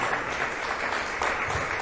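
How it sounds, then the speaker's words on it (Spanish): A congregation bursts into strong, steady applause for the Lord during a church sermon, a dense, continuous wash of many hands clapping at once, loud and close. "Denles aplauso, hermano, fuerte al Señor"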